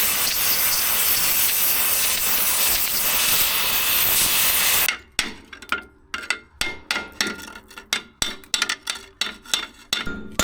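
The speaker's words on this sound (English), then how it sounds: "I think I'm just gonna cut this with a torch." An oxy-fuel cutting torch roars with a steady loud hiss through a worn pin on a John Deere 450B dozer blade, then stops abruptly, followed by a string of sharp metallic knocks and taps as the pin is worked loose.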